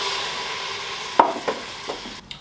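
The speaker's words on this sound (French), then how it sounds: "Je fais suer mes poireaux et puis j'ajoute un petit peu d'eau." Leeks sweating in a pan with a soft, steady sizzle, broken by a few brief stirring scrapes and clinks of a utensil near the end, close and fairly quiet with no talking.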